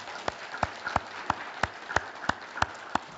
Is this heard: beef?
no